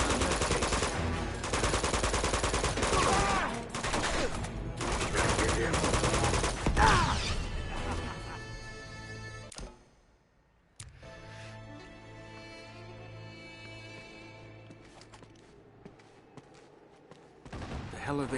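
Uncharted 2 gameplay with bursts of rapid automatic gunfire and fusillades, loud and dense for the first several seconds, then tapering to sparser shots over quieter game sound and music.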